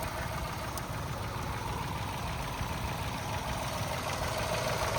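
A Mahindra XUV300 W6 with a 1.2 litre (1197 cc) turbo petrol engine and a CNG kit idles steadily and close by for the whole clip. The low, even hum holds at one level with no voice over it.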